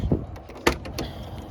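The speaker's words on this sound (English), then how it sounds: "We got to open the doors." Doors of a Lancia 037 Stradale, a Group B homologation road car, being opened: a few short close latch clicks and clunks, one sharp thump in the middle, with no talking.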